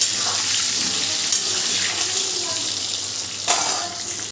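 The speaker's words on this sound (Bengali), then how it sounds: "আস্তে আস্তে আলুটাকে ভেজে নিতে হবে" Potatoes fry in oil over a medium flame, a loud, even hiss close by with a couple of brief louder crackles, with no voices, while being readied for mutton biryani.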